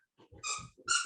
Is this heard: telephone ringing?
no